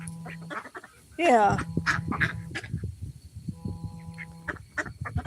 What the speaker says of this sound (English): These ducks chased off that little chicken.